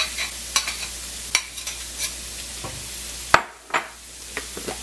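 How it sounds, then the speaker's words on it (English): A utensil scrapes onions from a bowl into a hot pan, giving several sharp scraping strokes and clacks over a soft steady sizzle, close by and without talk. "Get them all, oops, sorry for the scraping."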